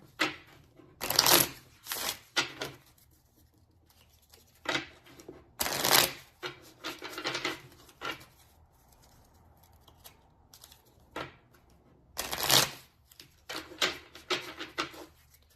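A deck of oracle cards is shuffled in several bursts of crisp riffling and flapping, each a second or two long, separated by quieter pauses.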